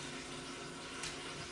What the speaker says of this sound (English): So right now I'm just filling my pot up with water.